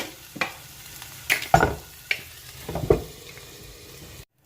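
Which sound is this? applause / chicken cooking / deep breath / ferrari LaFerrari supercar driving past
chicken cooking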